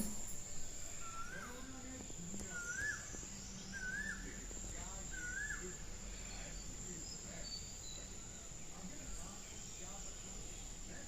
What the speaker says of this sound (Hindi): देखिए ये नज़ारे और मधुर मधुर कोयल की आवाज़ सुनो।